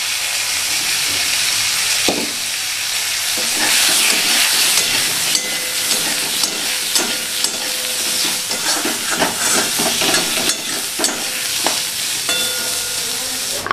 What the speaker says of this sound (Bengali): আলু আর ডাঁটাটা ভাজা হয়ে গেছে